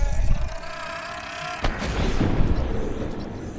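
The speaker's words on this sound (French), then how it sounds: "Il a explosé mais il m'a pas fait mal." Explosion in Subnautica, a sudden dull boom partway through followed by a rumbling, bubbly wash of underwater noise, mid-loud against ambient game sound.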